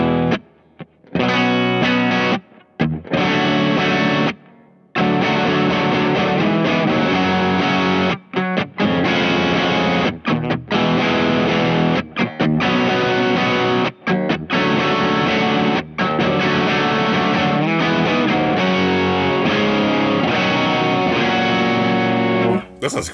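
A 1978 Greco electric guitar with Fishman Fluence humbuckers played through its bridge pickup, loud strummed rock chords with short gaps between phrases, apparently with some distortion and chorus-like effect colouring the tone.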